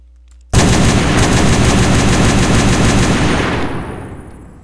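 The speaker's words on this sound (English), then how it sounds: "So yeah, those are the machine guns" A .50 cal machine gun in the blocky war game Minecraft Call to Battle fires one long, loud, unbroken burst of rapid shots that holds for about three seconds before fading out, with no voices.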